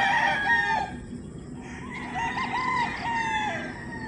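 An imported Sweater gamefowl rooster from the US crows in a breeding yard, with two drawn-out crowing calls close by and other fowl calling faintly in the background.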